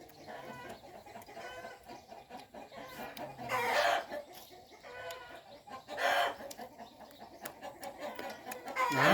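Chickens cluck and cackle on a rural Thai morning, with several hens calling in irregular bursts, two louder squawking outbursts standing out over a steady background of softer clucks and chatter.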